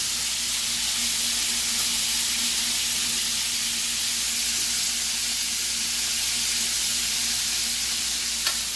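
Hot sauce and garlic sizzle steadily in a hot pan, a loud, close, continuous hiss and crackle with no talking.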